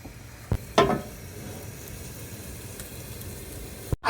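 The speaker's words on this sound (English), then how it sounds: "I could already smell the garlic frying" Steady hiss and sizzle of garlic frying in olive oil throughout, with a couple of brief clinks or stirring knocks.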